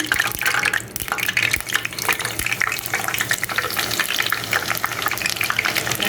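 Green boondi frying in hot oil in a pan, a steady dense sizzle and crackle running continuously throughout, close and fairly loud with brief bubbling bursts.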